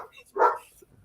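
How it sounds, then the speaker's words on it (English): A single sharp dog bark bursts out near the middle of a brief moment, fairly close and loud against a quiet background, with faint voice-like sounds around it. "so the dog's going nuts because loud noise. He barks at the wind."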